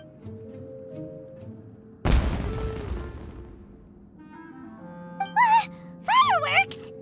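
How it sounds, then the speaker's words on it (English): Fireworks go off in the video game Genshin Impact: a single sudden loud boom that crackles and fades over a second, then melodic game music and tones follow. "Was that an explosion? It sounded like fireworks."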